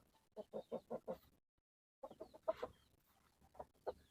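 Native hens clucking in a backyard flock, a run of five short rhythmic clucks, a brief pause, then a looser series of clucks at close range with no talking.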